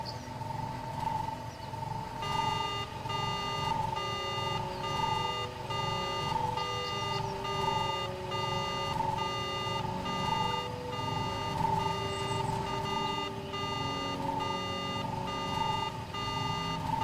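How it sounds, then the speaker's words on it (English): Speeder alarm in Star Wars Knights of the Old Republic, a repeating electronic beeping pulse in a steady rhythm, sounding continuously over a low game ambience. "I'm the one who set off your speeder's alarm."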